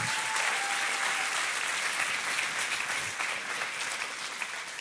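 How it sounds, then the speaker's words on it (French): Dense, steady audience applause at a talk by Patrice Martorano, loud and continuous throughout, tapering only slightly toward the end with no talking over it. "On peut les applaudir plus fort que ça."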